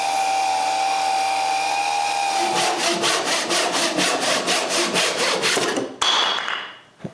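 A saw cuts through wood along a glued-on paper pattern, giving steady rhythmic strokes after a continuous machine hum, loud and close, ending with a sharp knock and the blade running down.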